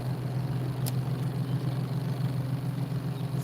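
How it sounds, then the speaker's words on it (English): Steady road traffic near a fishing spot produces a low, continuous engine rumble throughout, moderately loud, with one brief click near the start and no talking. "traffic noise to deal with now"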